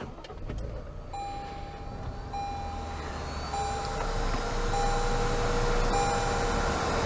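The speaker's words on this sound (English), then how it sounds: "Let's push the button and start it up." A 2022 Toyota Tundra Limited pickup being started by push button from inside the cab: a low engine rumble builds and steadies while repeated electronic chimes beep at intervals, close and moderately quiet.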